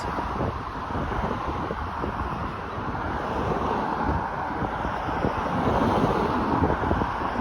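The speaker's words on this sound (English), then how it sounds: "Normally I hate wind, but wind can be pleasant sometimes." Steady wind gusts along a hiking trail beside a river, a broad continuous rush that swells slightly toward the end, with no voices.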